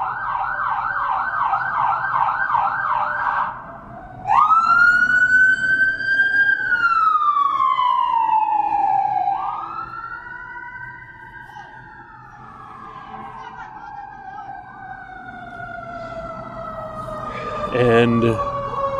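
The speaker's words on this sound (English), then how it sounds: "an emergency" An ambulance siren wails close by, first a fast yelp, then a long rising and falling wail that fades as the vehicle passes.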